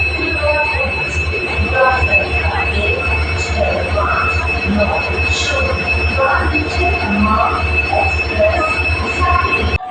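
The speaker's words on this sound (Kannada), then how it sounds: "ಈಗ ಹನ್ನೆರಡು ಗಂಟೆ ಟ್ರೈನ್ ಬಂತು ನಾವು ಹತ್ಕೊಂಡಿದ್ದೀವಿ" A train rumbling into Hubballi station with screeching wheels and a continuous heavy roar, close and loud throughout.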